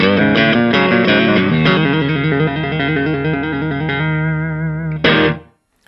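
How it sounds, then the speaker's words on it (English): An electric guitar through the clean channel of a Fender valve amp plays bright, clean chords and ringing notes, loud and close, ending with a final strum that quickly cuts to silence. "the clean channel of most Fender valve amps will do a good job"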